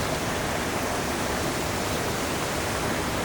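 A waterfall at Jatinga pours continuously, a dense, loud, unbroken roar of falling water close by with no pauses or voices.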